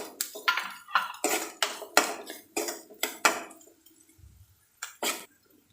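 A spoon stirring chopped carrots and onions in a metal pan, about ten sharp clinks and scrapes in an uneven rhythm, close and clear, before a short pause and two final taps.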